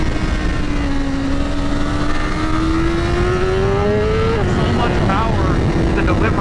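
A BMW S1000RR sport motorcycle engine idles and revs at low speed under throttle tip-ins, its pitch rising slowly and then blipping. A voice talks over the steady engine drone.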